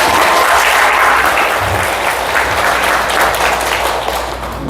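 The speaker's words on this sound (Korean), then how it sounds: "박수 한번 주세요." Sustained applause from an audience, steady and dense clapping filling the whole stretch, tapering slightly toward the end.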